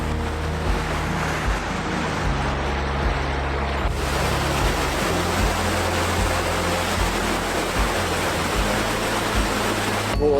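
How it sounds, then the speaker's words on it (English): A roadside waterfall on the Isle of Skye rushes in a steady, full roar, joined by low idling engine hum with a few rhythmic changes, with no talk. "On the way up we noticed this waterfall, so pulled over to have a gander."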